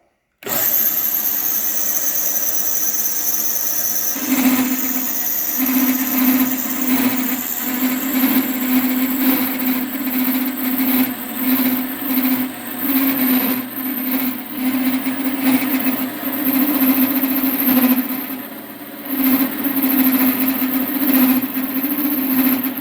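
A lathe-type machine turning a pulley, cutting grooves down from a larger pulley, runs at raised speed with a loud close motor whine and a sustained squealing tone that fluctuates slightly throughout, with no one talking.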